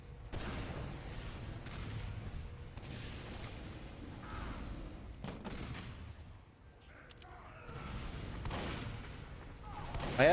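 Gunfire in the video game Team Fortress 2 Classic: bursts of rapid shots and booming blasts in irregular clusters, loud and close, with brief lulls between volleys.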